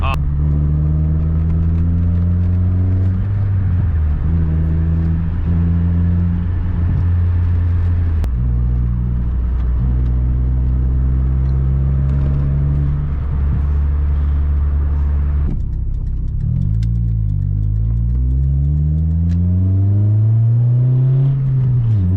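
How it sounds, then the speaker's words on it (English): A 2002 Nissan Sentra SE-R Spec V engine revs up repeatedly through its exhaust, pitch climbing and falling in long sweeps, loud and close, with a deep rumble throughout. "That exhaust sounds pretty good by my book. Revving it pretty high right here."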